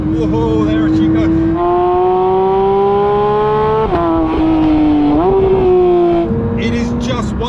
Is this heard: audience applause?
no